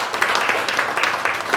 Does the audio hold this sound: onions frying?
no